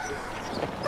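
A dog gives a brief, close whimpering yip, loud and alone with no talk, as a tired, worn-out dog after hard work.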